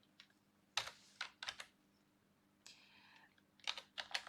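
Typing on a computer keyboard while writing PHP code, clusters of quick close clicks and key taps in short bursts separated by quiet pauses.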